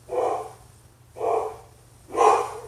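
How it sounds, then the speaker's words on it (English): A pet dog, a young male puppy, barks three times in a deep, gruff, fairly loud voice, each bark evenly spaced about a second apart with no talking. "He sounds so grown. That's my little silly puppy. He sounds scary."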